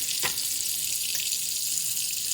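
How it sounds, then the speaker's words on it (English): Cold water runs steadily from a kitchen tap into a sink, a continuous bright hissing splash with a brief knock near the start, no voices. "we're going to start filling our sink up with some cold water"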